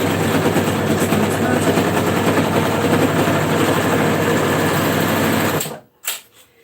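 Overlocker sewing machine stitching a cardigan seam, a loud, close, fast mechanical whirr and rattle running steadily for several seconds before stopping abruptly, followed by a couple of soft clicks.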